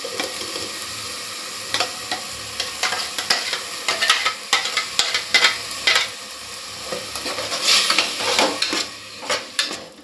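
Tomato paste is stirred into a sizzling cooking pan, with a steady fry underneath and repeated close scraping and clinking strokes of a utensil against the pan.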